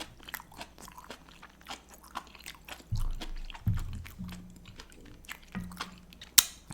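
Close mukbang chewing of malatang, spicy Sichuan hot-pot soup with noodles and vegetables, with wet, crunchy bites, slurps and soft squishy mastication in an irregular rhythm, intimate and quiet between louder crunches.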